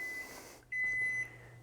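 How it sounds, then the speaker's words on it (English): An oven timer buzzer goes off during cookie baking, two steady electronic beeps, the first long and the second shorter after a brief pause, clear and fairly close in a quiet kitchen. "I hear the buzzer."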